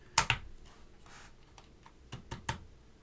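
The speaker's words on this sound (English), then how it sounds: "let's put our stabilized keycaps on first" Stabilized keycaps snap onto a mechanical keyboard in a few sharp, close plastic clicks and clacks, with two separate bursts and faint rustling between them.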